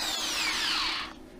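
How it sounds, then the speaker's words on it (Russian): An electric drill runs from a 4 kW solar power station, whining steadily at close range with falling pitch as it winds down near the end, alone without talk. "В общем, подключена дрель, подключена поливная колонка, подключенный компьютер."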